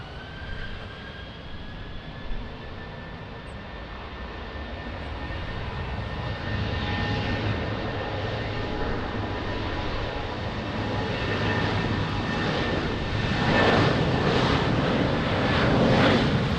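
A passenger airplane's jet engines roar at Lisbon Airport in wind and rain, a steady loud rumble with a high whine that swells and grows stronger toward the end, heard alone with no voices.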